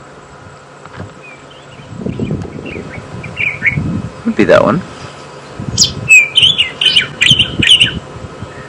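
Bright, repeated whistled calls of a white-throated robin-chat in quick phrases near the end, following a stretch of low-level talking with soft chirps in the background, on a safari drive.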